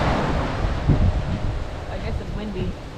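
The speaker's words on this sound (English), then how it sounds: "I guess it's windy." Wind buffeting a microphone at a beach campsite in Binalong Bay, Tasmania, a rumbling gusty roar with possible surf underneath and a voice speaking briefly over it.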